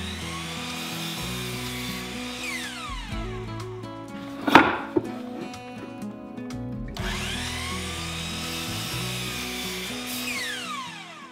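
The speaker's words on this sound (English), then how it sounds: "Then I'll square up one end before cutting it to 22 inches." Power saw cuts squaring up and trimming a board to 22 inches for a rolling pin, with two long, loud, close whining cuts separated by a short burst of clatter and knocks in the middle.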